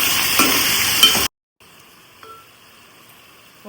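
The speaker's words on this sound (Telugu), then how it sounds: "ఒకసారి మిక్స్ చేసుకొని స్టవ్ సిమ్లో పెట్టి ముక్కలు కొంచెం పచ్చివాసన పోయేంత వరకు మగ్గి చేసుకొని" Chicken pieces sizzling and being stirred in a pan on a stove, a loud steady fry with scraping stirs that cuts off abruptly, followed by faint quiet kitchen sounds.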